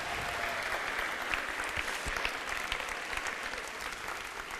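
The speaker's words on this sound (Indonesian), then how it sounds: "Kasih tepuk tangan bagi Tuhan" Church congregation applauding for God during a Connect Group night sermon, a steady wash of many hands clapping at moderate level that holds evenly throughout without pause.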